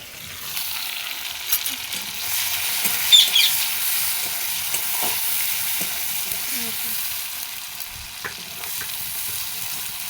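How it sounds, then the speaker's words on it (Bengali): Bay leaf, whole dried chilli, cumin seeds and onion fry in a pan with a steady bright sizzle, joined by soft scrapes and clicks of stirring throughout. "তেজপাতা লঙ্কা গোটা জিরে দিলাম, পেঁয়াজ লঙ্কা দিয়ে দেবো।"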